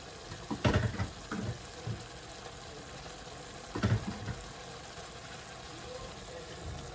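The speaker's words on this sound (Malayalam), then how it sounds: "ഒരു ഗ്ലാസ് വെള്ളം ഞാൻ ഈ അരപ്പിൻ്റെ പാത്രത്തിലോട്ട് ഒഴിച്ച് കഴുകി അതും കൂടെ ഒഴിക്കുക" Water rinsed from the bowl of ground roasted coconut paste is poured into a pot of bitter gourd theeyal, giving two short splashing pours a few seconds apart over a quiet kitchen background.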